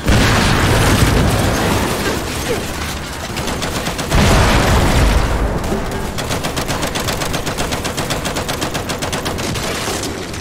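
A fire grenade explodes in a sci-fi shooter game amid rattling machine-gun bursts. A loud booming blast lands partway through, and rapid continuous gunfire runs before and after it.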